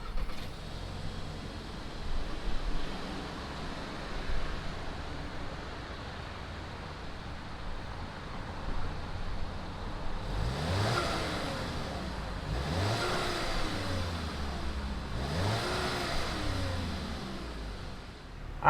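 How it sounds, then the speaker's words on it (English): A 2019 Volkswagen Arteon sedan idles with a soft, hissy engine drone, then gets three quick throttle blips spaced a couple of seconds apart, each rev swelling and fading, heard from outside with no talking. "fire up the Arteon and see what it sounds like"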